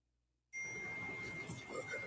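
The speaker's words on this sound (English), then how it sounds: "We got the bell." A single clear ding sounds as the futures market opens on a live day-trading stream, ringing out sharply after near silence and sustaining a bright tone for about a second and a half.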